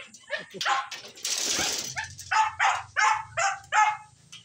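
Several noisy pet dogs at home bark in quick, loud bursts, with yips and a whimper between them, while a person talks near the start.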